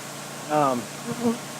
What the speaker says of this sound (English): The bees are orienting on it just fine.